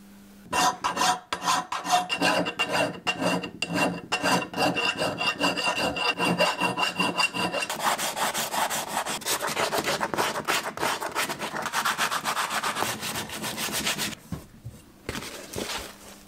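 Sandpaper of 120 grit rubs back and forth along a wooden axe handle being hung on a slip-fit axe, a steady raspy scraping in quick strokes close up, pausing near the end, with no talking.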